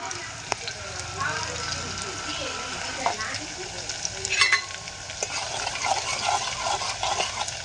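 Sudiya vegetable curry cooking in a pan in a village kitchen, a continuous soft sizzle and bubbling with occasional stirring scrapes, a voice speaking over it.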